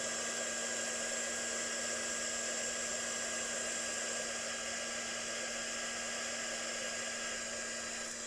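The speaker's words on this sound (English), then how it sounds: "I'm going to turn the heat gun on again and let it get nice and hot." A heat gun runs continuously, a steady, even blower whir with a faint tonal hum, close by and unbroken for the whole stretch.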